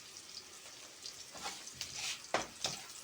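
Garlic frying in a pan, a faint, steady sizzle with a few louder crackles and stirring scrapes toward the end, no voices over it.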